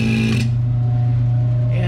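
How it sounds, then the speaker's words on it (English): A vacuum pump drones steadily during gold-filled scrap refining, a loud constant motor hum with a raspy edge that stays even throughout, recorded up close. "Now what we're going to do, turn off the vacuum pump here"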